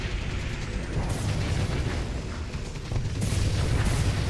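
Torpedoes explode in the space combat game Starsector, a dense run of heavy booms and bursts with low rumble, several impacts stacking close together with sharper cracks near the start and toward the end, no voices.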